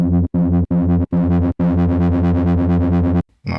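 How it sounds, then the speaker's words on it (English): Overdriven bass notes with a gritty, saturated tube screamer distortion on a Reese bass, played in short bursts and then a longer sustained run before stopping, loud and close. "Let's go for some tube screamer"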